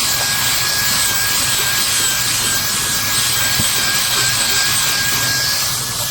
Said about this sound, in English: Drill brush it out